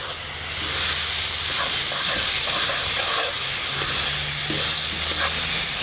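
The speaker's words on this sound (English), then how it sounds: "Going to give that a stir." A pot of Louisiana chicken and sausage gumbo sizzles loudly and steadily after roughly chopped garlic goes in, with a close, continuous hiss and a few faint clinks and scrapes of stirring underneath.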